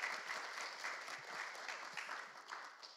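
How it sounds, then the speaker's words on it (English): An audience at a live church discussion event applauds, a fairly faint, distant-sounding wash of many clapping hands with occasional sharper claps, holding steady for a few seconds. "let's applaud him"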